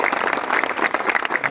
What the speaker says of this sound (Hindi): एक जोरदार तालियां नीरू मैम